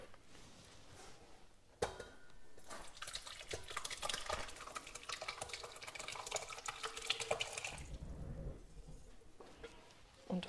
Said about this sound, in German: Und wasche den Mixtopf aus.